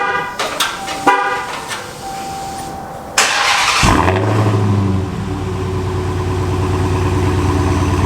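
A Hellcat car heard from outside makes a few clicks and a short horn-like tone, then its engine starts with a loud burst and settles into a deep, rumbling idle.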